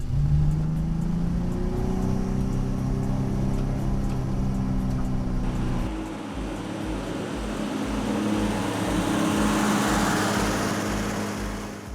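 A BMW E30 325i straight-six engine runs steadily and close, with a droning idle that shifts into a pulsing, lumpier note partway through. No one speaks.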